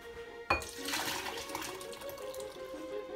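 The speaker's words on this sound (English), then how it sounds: "So let's go and pour it into our bowl." Soup poured from a pot into a bowl makes a steady liquid splashing and trickling that starts sharply and continues at moderate level, close by, with no talking.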